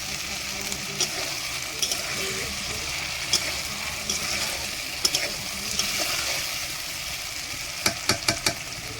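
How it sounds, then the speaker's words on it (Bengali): Potatoes sautéing in a pan for egg potato curry, a steady close sizzle with scattered spatula scrapes and a few quick clinks near the end, no talk. "এটাকে আমি দু মিনিটের মতন কষিয়ে নেব"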